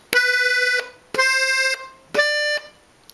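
A damaged diatonic accordion plays three short, reedy, buzzing chords, each lasting under a second and separated by brief gaps, close and fairly loud with no talking.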